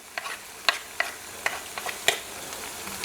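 Potatoes are stirred into veal stew in a pan, giving a series of sharp scraping clinks from a utensil against the pan at an irregular rhythm, close and fairly quiet, over a soft sizzle.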